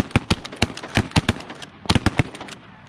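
Shotgun shells fired in quick succession outdoors: sharp, loud, close blasts in two clusters of rapid shots separated by a short pause.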